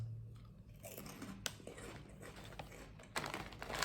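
Someone chews a crunchy Asian snack, with a few crisp bites and crackling crunches spread irregularly over a few seconds. The sounds are close and fairly quiet, and a louder burst of crunching comes near the end.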